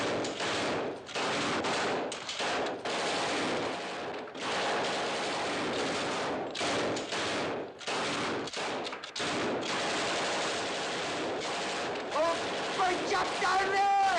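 Machine-gun and rifle fire crackle in sustained bursts across a 1958 World War II battle scene, loud and dense with brief gaps, shouted voices breaking through near the end.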